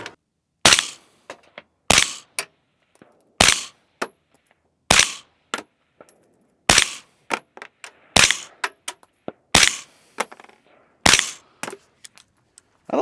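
An HPA-powered airsoft gun firing in repeated sharp, loud cracks, arriving in short clustered bursts of a few shots each with brief pauses between them, close and with no talking.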